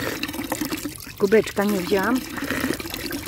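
Drinking water runs from a public fountain in Rome, a steady trickle and splash heard close by, with someone talking over it.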